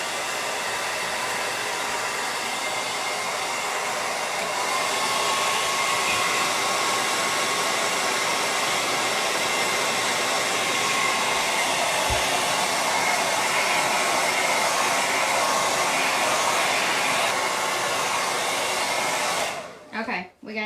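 A hair dryer blows steadily to dry paint on a painted welcome sign, one continuous close whooshing drone lasting about twenty seconds before cutting off with a brief clatter.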